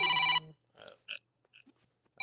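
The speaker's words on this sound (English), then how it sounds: "Whose phone is that?" A phone rings with a loud, bright electronic tone at the start, then breaks off into quieter scattered bleeps and a final burst, amid a poker tournament broadcast setting.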